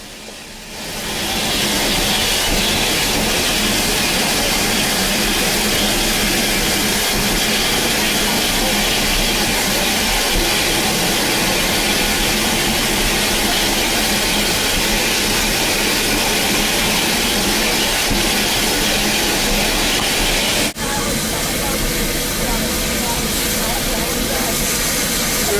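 A loud, continuous steam hiss with a rumbling steam locomotive beneath it on a rebuilt South American heritage railway, steady for the whole stretch.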